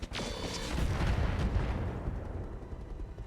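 Heavy mech weapon fire in the RogueTech battle game, a deep booming burst with a rumbling low-end tail that rolls on for several seconds, loud and close with no talk.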